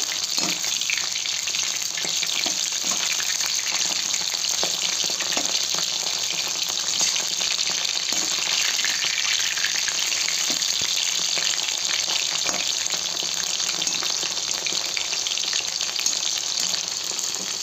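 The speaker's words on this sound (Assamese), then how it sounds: "ভালকৈ ভাজি ল'ব অলপ কাঢ়াকৈ ভাজি ল'ব তেতিয়া সিজি যাব মাংসটো" Continuous sizzling of chicken frying in a hot pan, a steady crackling hiss with occasional faint clinks, no talking.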